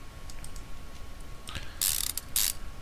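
A bolt being fitted in the game Car Mechanic Simulator 2015, light mechanical clicks followed by two bursts of rapid ratcheting, close and clear with no voices.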